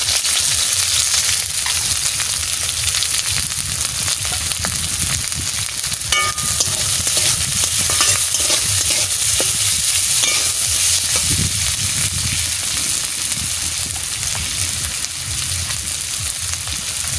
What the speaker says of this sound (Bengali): সরষের তেল দিয়ে দিচ্ছি, আমি বেরেস্তা বানাবো। পেঁয়াজ দিয়ে দিচ্ছি